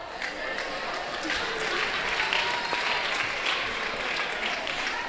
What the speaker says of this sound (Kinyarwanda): Amashyi menshi iwacu Kibungo.